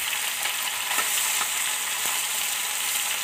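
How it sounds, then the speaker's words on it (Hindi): Chela fish frying in a pan, giving a steady, dense sizzle that holds evenly throughout with faint crackles and no voices. "थोड़ा जल्दी फ्राई होगा दोस्तों।"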